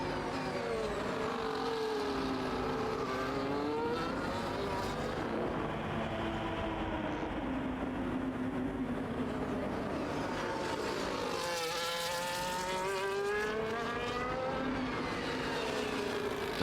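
Racing car engines in a racing video game, several cars revving and sweeping past with rising and falling pitch, loud and continuous throughout with no talk.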